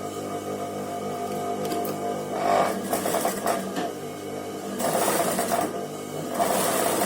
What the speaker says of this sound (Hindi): किनारे किनारे पे सिलाई लगाते हुए दोनों स्लीव्स की बॉटम पे ये लैस लगेगी